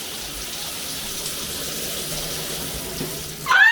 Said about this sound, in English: I'm about to take a freezing cold shower.